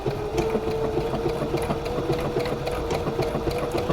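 A sewing machine stitching steadily at a constant speed, with a close, even mechanical whir and a rapid needle rhythm that runs without pause.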